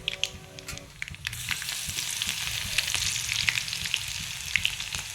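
Cumin seeds and chillies sizzle in hot oil, a close, steady frying hiss with scattered crackles and pops that swells just after they go in.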